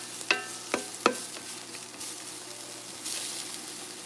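Onions frying in a pan for a vegan oxtail dish: a soft, steady sizzle beneath three sharp utensil clacks early on, then continued quiet frying with no talking.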